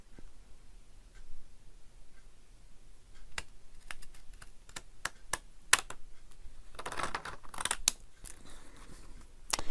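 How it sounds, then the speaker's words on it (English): Decal edge scissors snip through paper in a string of sharp, close clicks, sparse at first and then quicker, with a brief rustling flurry in the middle and no talking. "Now let's get our decal edge scissors."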